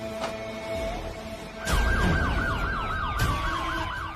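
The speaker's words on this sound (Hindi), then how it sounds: "मैं सायरन नहीं सुना दे रही क्या तुझे?" A wailing siren rises and falls in rapid repeated sweeps, loud and close, after a softer tone in the opening moments.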